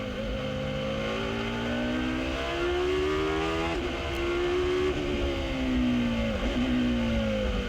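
Dome Judd prototype race car engine at Le Mans 2002, a continuous high-revving howl with pitch dropping on shifts and braking then climbing again, steady and prominent.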